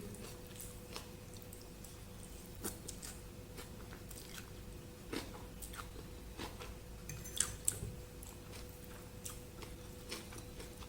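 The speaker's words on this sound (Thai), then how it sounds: "พี่ชอบกินขนมจีนน้ำพริก" Quiet chewing and crunching while eating khanom jeen rice noodles with nam prik, a set costing 25 baht, with scattered soft bites and clicks over a low steady background hum.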